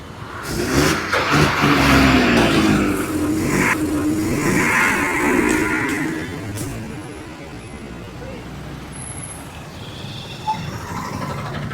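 A bus engine roars close by and rumbles past as it drives over an Oppo F31 smartphone placed under it, fading slightly toward the end, with people talking over it.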